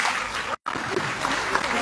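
Sustained applause from a crowd at a morning Annakuta festival celebration of Giriraja, a steady broadband clatter of many hands broken by one brief pause before the clapping resumes.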